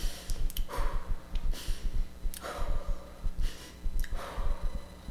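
A woman demonstrating labor birth breathing, with deep, audible breaths in a repeating cycle of long airy exhales, rhythmic and close over a low background rumble.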